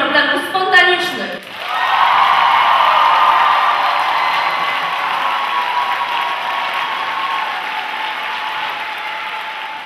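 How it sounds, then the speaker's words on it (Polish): Audience applause for the spontaneous-problems jury at an Odyssey of the Mind 2013 event in Wałbrzych, a broad steady wash of clapping swelling after a brief opening of speech and holding loud for several seconds. "Wielkie brawa dla jury problemów spontanicznych!"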